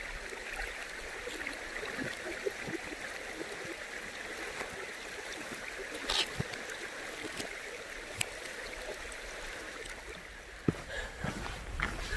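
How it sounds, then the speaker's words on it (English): A creek trickles through a rocky gorge in Mt Remarkable National Park after heavy rain, a steady close babble of running water with occasional faint knocks and footsteps. "It's lovely and quiet in here today. You just hear the trickling"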